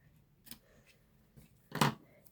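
Scissors cutting a strip of conductive fabric tape while making a light-up greenhouse card with LED stickers: one faint snip early, then a single louder, close crisp cut near the end.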